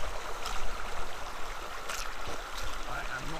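Babbling stream on Dartmoor, a soft, continuous trickle and gurgle of water over stones nearby, with faint intermittent noises on top.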